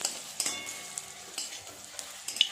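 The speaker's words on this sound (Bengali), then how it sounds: "বড়াগুলো ভাজা হয়ে গেছে" Bitter gourd fritters fry in a pan of oil with a soft, steady sizzle, punctuated by light clinks and scrapes of stirring, close up and without voices.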